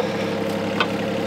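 An excavator engine powering a converted hydraulic wood splitter runs at a steady idle, a close, continuous low drone with a brief faint clank partway through.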